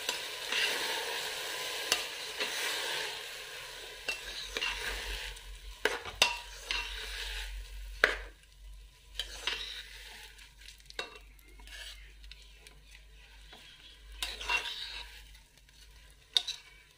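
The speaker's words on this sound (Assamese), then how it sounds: "অকণমান লৰাই দিওঁ।" Soaked dal for khichdi stirred in a hot pan: soft, irregular scraping strokes with occasional sharper clinks of a spoon against metal, close and fairly quiet.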